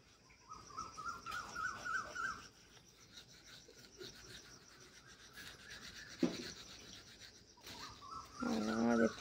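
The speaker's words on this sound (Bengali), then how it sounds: "দেখতেই পাচ্ছ তোমরা, পাখি ডাকছে।" Birds chirp in the dark around 3:30 in the morning, short bursts of high calls rising out of a soft rubbing, scraping background, clearest at the start and again just before the end.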